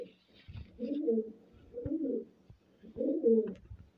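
Pigeons of the Punjabi blue chatri high-flyer breed coo in three low, rounded bursts with short pauses between them, close by and fairly quiet, with no talking over them.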